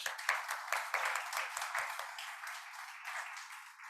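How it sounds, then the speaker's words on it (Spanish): Audience at a lecture on ancient Egyptian medicine claps to welcome a speaker, a brief, fairly faint patter of applause from a modest room that thins out within a few seconds. "Gerardo Taver, un aplauso, por favor."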